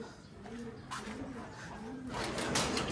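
A pet pigeon coos in a few soft, low, repeated phrases, close by, over a steady background hiss and rustle.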